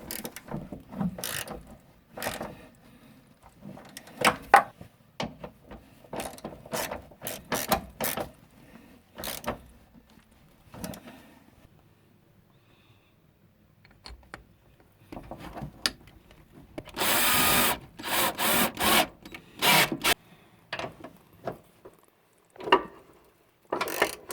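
A wrench ratchets in quick bursts of clicks while bolts are tightened on the shock absorbers on both sides of a car, pausing between runs and then picking up again for a longer stretch near the end.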